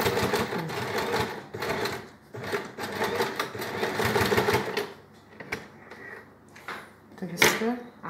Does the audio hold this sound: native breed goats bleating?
no